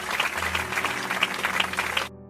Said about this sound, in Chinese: 我们一起给它一点掌声吧